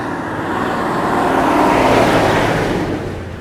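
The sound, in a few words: buses driving on a mountain road in Sri Lanka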